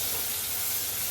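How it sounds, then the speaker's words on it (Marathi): Onion sautéing in a pan at home, a steady close sizzle and hiss with no break, alone without talk. "कांदा, कांदा चांगला परतून घेते मी"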